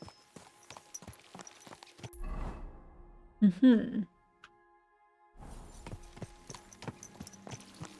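Horse hooves clip-clop in the medieval game Kingdom Come: Deliverance 2, a steady walking rhythm of close hoofbeats that pauses briefly, broken by a snort or whinny, then resumes.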